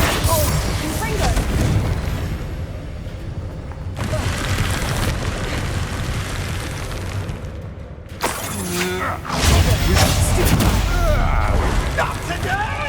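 Confringo blasting spells in Hogwarts Legacy, loud booming explosions with crackling debris in repeated bursts, including sharp blasts after a brief lull, amid dense combat noise and voices.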